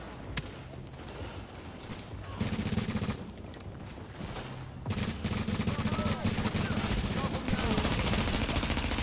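Sustained automatic gunfire in The Division, with dense rapid bursts hammering away almost nonstop over several seconds, loud and close, with a voice talking faintly underneath.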